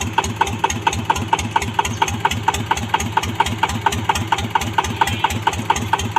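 A 150cc motorcycle engine idles steadily during run-in, its even, rapid thumping pulses close and loud throughout, with no talking.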